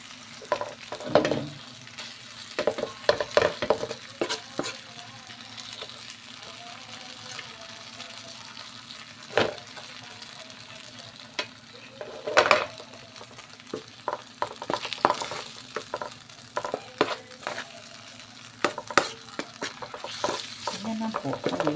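Bagoong and tomatoes are stirred and fried in a pan for a beef kare-kare, with a steady sizzle under repeated scraping strokes of a spoon against the pan, close and fairly loud.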